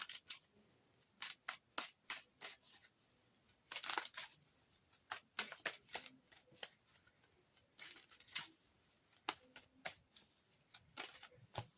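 Oracle cards from the Scenes of the Witch Imbolc Oracle deck are shuffled and drawn, with crisp irregular riffling snaps and slides in quick clusters, close and fairly quiet, without talk.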